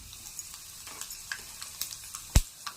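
Asafoetida hits hot oil in a dal tempering, giving a steady close sizzle of frying with scattered small pops and crackles and one sharper louder crack near the end, without any talking.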